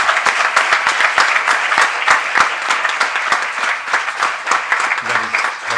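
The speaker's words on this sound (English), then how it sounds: "massive applause. So let us do that." An audience at a research awards ceremony gives the award winners a sustained round of applause, many hands clapping densely and loudly with a few distinct sharp claps, tapering slightly at the end.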